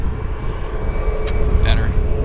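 A plane landing at Vancouver International Airport (YVR): a steady, broadband engine roar with a low rumble holds throughout, fairly loud and distant-sounding, with brief faint higher tones and some background voice-like sounds.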